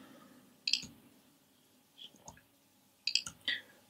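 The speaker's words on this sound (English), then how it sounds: "Hopefully the mouse click doesn't get annoying" A few sharp, quiet mouse clicks, single and double, scattered over a near-silent background with faint room noise.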